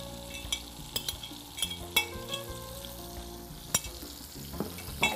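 Capsicum frying in a little oil, a steady sizzle punctuated by repeated spatula taps and scrapes against the pan, close and moderately loud.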